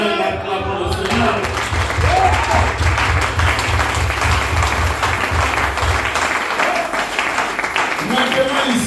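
A church congregation applauds in praise during a service at Capstone Tabernacle in Gabon, a steady, dense wash of clapping with crowd noise and a low rhythmic hum beneath, continuing loud throughout.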